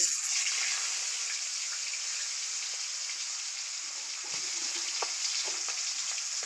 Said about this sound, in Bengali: তেলটা গরম হয়ে গেছে এখন আমি ভিতরে মাছটা ছেড়ে দেব